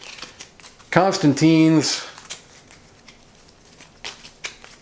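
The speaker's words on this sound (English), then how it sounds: "now we're going to shuffle up" Board game cards from Architects of the West Kingdom are shuffled into a draw deck in a solo game, giving soft riffling and flicking close by, broken up by a brief spoken phrase in the middle.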